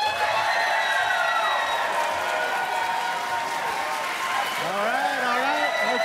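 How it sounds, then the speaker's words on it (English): A convention panel audience applauds and cheers for the Star Wars character Bossk with steady clapping and shouts, while voices and whoops rise over the crowd and swell near the end. "And let's hear a round of applause first for Bossk."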